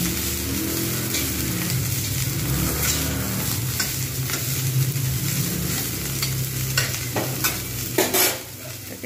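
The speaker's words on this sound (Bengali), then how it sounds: "ফুলকপিটাকে খুব সুন্দর করে ভেজে নিয়েছি।" Cauliflower and potato pieces frying in oil in a pan, a steady loud sizzle with the scrape and clatter of stirring throughout and a sharper burst of stirring near the end.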